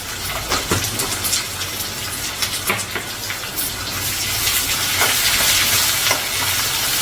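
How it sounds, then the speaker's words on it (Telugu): Sliced onions sizzle loudly with sambar powder in a hot pan for masala upma, a continuous close hiss and crackle, with occasional stirring scrapes and a frying sound that swells toward the end. "ఈ ఉల్లిపాయలు వేగినప్పుడే కొంచెం సాంబార్ వేసుకుంటే ఉల్లిపాయలు వేగగా వేగుతాయి"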